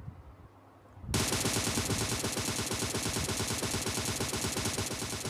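Automatic gunfire in the PUBG video game, erupting after a brief quiet moment into a sustained, rapid, loud burst of close-range shots that continues without a break.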